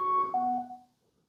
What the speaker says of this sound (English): And that was the pairing sound.